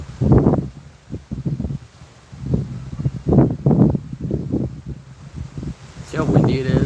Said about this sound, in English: It's like crazy windy.